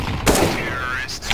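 A gunshot rings out in Rainbow Six Siege, one loud close crack with a ringing tail, followed by a fainter shot near the end, amid game noise.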